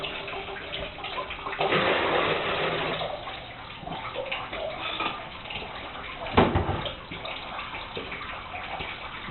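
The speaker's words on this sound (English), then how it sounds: "You want to empty the water out of the sump." Water emptied from a plumbing water filter sump into a bucket, heard as a steady wash of pouring and splashing with a sharper slosh near the end, fairly close.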